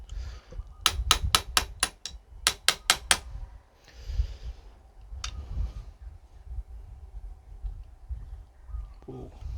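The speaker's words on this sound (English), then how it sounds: "I'm gonna need a bigger hammer here." A hammer raps fret wire on a guitar neck during a refret: two quick bursts of about five sharp, bright metallic taps each, then scattered softer knocks amid quiet handling noise.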